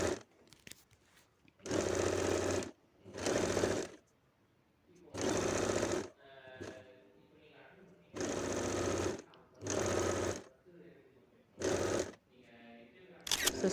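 A sewing machine stitches two fabric pieces together with a border, running in loud bursts of a second or so, then pausing while someone talks between the runs.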